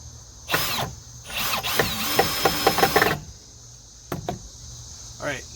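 A power drill drives screws into wood while building a fish tank stand, with two whirring bursts, the second longer with a ratcheting grind, then brief clicks, against a faint cricket-like background hum.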